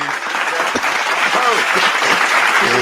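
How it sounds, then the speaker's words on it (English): A clapping sound effect dropped into a live travel-talk stream, loud dense applause with voices chattering over and around it. "I can add the claps if you want me to add the claps in."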